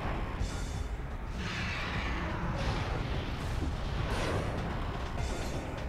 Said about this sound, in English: look at these explosions